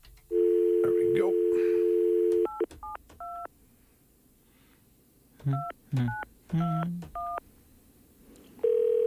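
Telephone keypad dialing at an office desk with sticky keys soaked in cleanser: a dial tone, then clusters of short DTMF beeps in bursts, with a few words spoken between.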